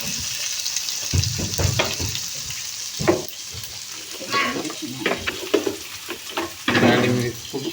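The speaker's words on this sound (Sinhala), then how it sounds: "දැන් හොඳට කලවම් කරනවා." Tomato, onion and chili frying in a pan with salt and a little spice powder are stirred briskly, giving close, uneven scraping and clattering over a continuous sizzle, without talking.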